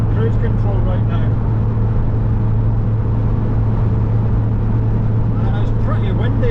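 A Mk3 Vauxhall Cavalier cruises steadily at 90 km/h on a windy day, its interior filled with a constant low engine drone and road rumble, loud and unbroken throughout.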